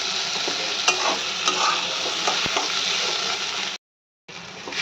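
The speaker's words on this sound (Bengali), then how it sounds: "আলুটা এখানটা ভালো করে লাল লাল হয়ে গেছে ভাজা" Potatoes fry in a pan with a loud, continuous sizzle, broken by occasional stirring scrapes and a brief gap of silence near the end.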